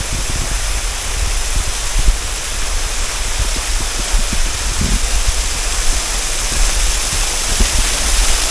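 A roadside waterfall at Lola's Haven Resort on Marilaki Highway toward Infanta, Quezon, roars as a steady, loud, broadband rush of falling water that stays unbroken throughout, with no voices.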